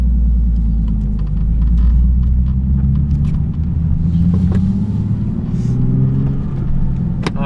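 Salvaged Nissan 370Z Nismo V6 with a 6-speed manual pulling away, a steady loud low engine rumble and drone throughout, rising slightly as it accelerates, with no talk.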